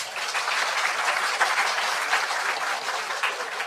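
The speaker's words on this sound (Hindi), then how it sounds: "मैं चाहूंगी कि एक बार स्नेह वंदन ऊर्जावान तालियों से किया जाए" Steady, energetic applause from an audience at an official government ceremony, dense clapping sustained throughout with no pauses, fairly loud and close.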